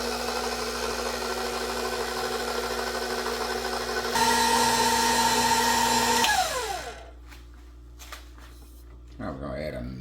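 A stand mixer runs in first gear, kneading cinnamon roll dough for Oreo cinnamon rolls, with a steady motor hum and whine. The motor then spins down and goes quiet, and a few soft clicks and knocks follow near the end.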